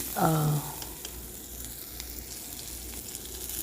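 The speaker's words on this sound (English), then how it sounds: "nicely stir fry the onions until it turns slight brown" Sliced onions stir-frying in a pan for an ivy gourd stir fry, a steady sizzle with a brief louder tonal scrape near the start, then continuous frying hiss with occasional soft clicks of stirring.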